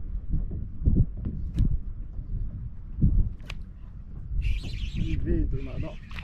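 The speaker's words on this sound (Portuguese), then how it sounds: "Arara, aí que show de bola." A macaw calls with harsh, raspy squawks near the end, heard outdoors on a riverside fishing trip amid rustling, thumps and a voice.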